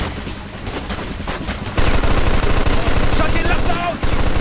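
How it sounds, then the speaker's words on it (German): Rapid machine-gun fire in the video game Mafia 2 rattles continuously, growing louder midway, with dense bursts of shots and a busy background. "Los, schnapp dir das Maschinengewehr."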